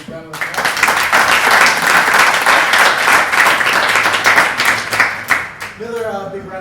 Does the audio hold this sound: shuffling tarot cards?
no